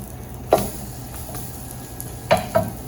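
Quiche egg bites cooking in a pan are flipped with a spatula, giving a sharp scrape near the start and two more quick scrapes later over a low, steady sizzle.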